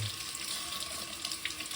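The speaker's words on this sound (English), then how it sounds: "Turn on the water and do the same thing." Water runs steadily from a sink faucet during a houseplant repotting session, a constant close hiss and splash with no talk.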